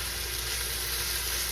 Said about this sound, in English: now that we're sizzling a little bit